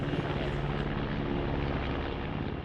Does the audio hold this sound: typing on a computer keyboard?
no